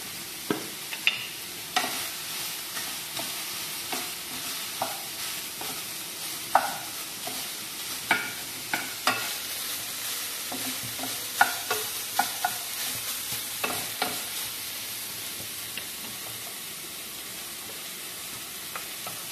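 Ground meat sizzles steadily in a hot pan while a utensil scrapes and stirs, with regular clacking taps against the pan throughout.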